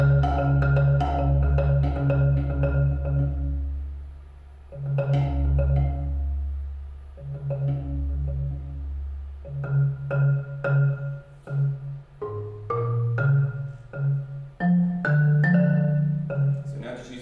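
Solo marimba playing the final variation of Alejandro Viñao's Khan Variations, with low sustained rolls and sharp mallet strikes that build into a quickening, increasingly dense rhythmic pattern, heard clearly and alone.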